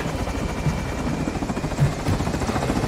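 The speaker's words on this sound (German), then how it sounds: "Geil, das ist ein Heli!" A helicopter from the video game Call of Duty: Modern Warfare 2 thumps and whirs steadily throughout, its rotor chop loud and continuous with no voices over it.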